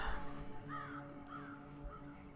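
Crows caw in the Pathologic video game, a few harsh calls spaced out over a steady low ambient hum, fairly faint and at a distance.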